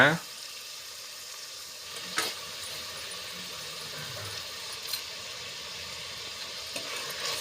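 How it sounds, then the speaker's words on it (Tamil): Tomatoes and onions sautéing in a pan for restaurant-style kudal (goat intestine) gravy, giving a steady, moderate sizzle with a few soft stirring clacks throughout, no talking. "தக்காளி வெங்காயம் நல்லா பச்சை வாசனை போகிற அளவுக்கு நல்லா வதக்க விட்டுலாங்க"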